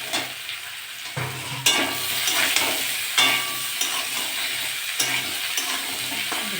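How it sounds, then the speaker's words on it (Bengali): Potato pieces and snake gourd frying in mustard oil in a kadai, a continuous sizzle broken by several scraping stirs of a spatula, close and fairly loud. "আলুগুলো একটু ভাজা ভাজা হয়ে গেছে, আমি ওতে চিচিঙ্গিগুলো দিয়ে দেবো।"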